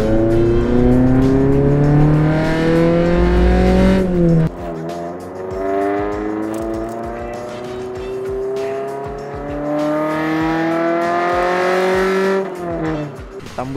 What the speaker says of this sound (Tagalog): parang may pumuputok na VTEC